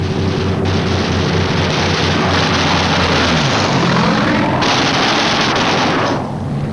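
Japanese fighter planes diving head-on at B-29 bomber formations, a loud, steady roar of aircraft engines with rattling gunfire mixed in, swelling and then cutting off near the end.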